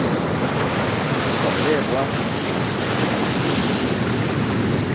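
Ocean waves wash steadily along a shore in strong wind, a continuous broadband surf roar with wind buffeting the microphone, while someone speaks briefly over it.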